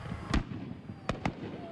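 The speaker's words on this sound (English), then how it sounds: "The city of Fresno ending their night with a bang in their first fireworks show at McLean High School." Fireworks bursting at a Fourth of July show held by the city of Fresno at McLean High School: three sharp, loud booms, one alone and then a close pair, over a low crowd murmur.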